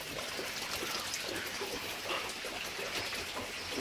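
Steady water falling and splashing at Los Prismas basalt prisms in Huasca de Ocampo, a continuous broadband rush with no pauses, fairly close and even in level throughout.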